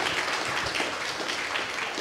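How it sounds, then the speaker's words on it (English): A crowd claps together in a full, sustained round of applause, moderately loud and unbroken. "Let's clap for"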